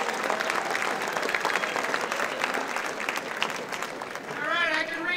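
Audience at an author dinner for the Tucson Festival of Books claps in a dense, sustained round of applause, fading slightly near the end as a voice begins.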